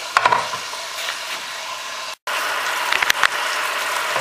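Beef sizzles and crackles steadily while stir-frying in a pan, with sharper scraping and stirring bursts near the start and again toward the end, and one abrupt cut to silence partway through.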